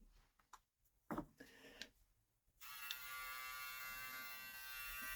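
A JRL Onyx single-foil electric shaver switches on after a few faint clicks and handling knocks, then runs with a steady, even buzzing hum that holds close and constant to the end.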